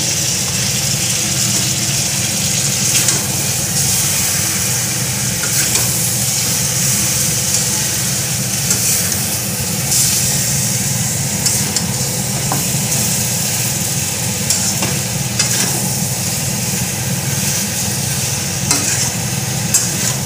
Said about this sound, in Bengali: ভালো করে কষাতে হবে।